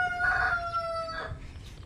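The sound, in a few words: rooster crowing among the farm chickens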